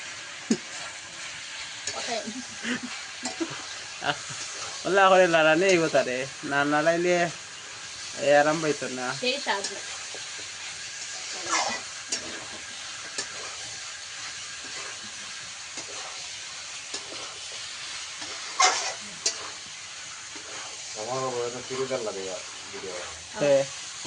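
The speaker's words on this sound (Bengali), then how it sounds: "এখন আলু দেওয়া হয়েছে তারপরে একটু নাড়াচাড়া করব" Potatoes are stirred into a meat curry in a pan, giving a low sizzle and occasional scraping under frequent stretches of talk.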